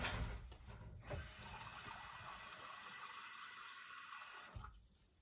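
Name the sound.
water running from a tap into a measuring cup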